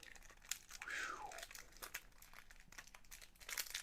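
A plastic bag crinkles and crumples up close as it is rolled, followed by sharp bursts of tape being pulled and torn, with soft speech in the background.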